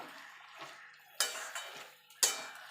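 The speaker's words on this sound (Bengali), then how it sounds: "এবার আমি মিশিয়ে নেব।" A spoon mixing a vegetarian spinach curry with lentil dumplings in a pan, giving a few close, soft scrapes and two sharper clanks against the metal.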